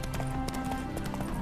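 Horse hooves clip-clopping in the Witcher 3: Wild Hunt game world, a steady, fairly close rhythmic trot running under a bed of music and ambient sound with a hint of speech.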